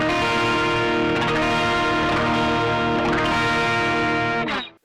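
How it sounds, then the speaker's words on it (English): A full barred electric guitar chord in a shoegaze style, heavily processed with effects, rings out loud and sustained for several seconds with swirling modulation before cutting off abruptly. "Just a really great and full sounding shoegaze chord."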